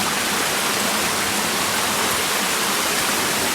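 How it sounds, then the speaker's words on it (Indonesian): The Grenjengan waterfall in Pacet, Mojokerto, gives off a steady, broad rushing roar of falling water, loud and continuous without pause. "Apa ini mungkin ya air terjun Gerenjengannya teman-teman?"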